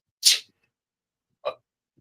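A sharp sneeze bursts out against silence, followed about a second later by a second, lower sneezy snort.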